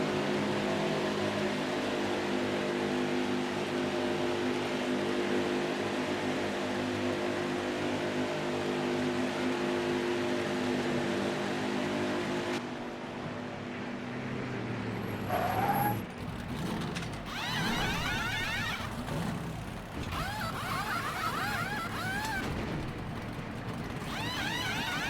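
A NASCAR Heat 5 pit stop at Atlanta to fix race damage: a steady droning engine hum gives way to rattling mechanical bursts, whirring tool sounds and clanks as the crew works.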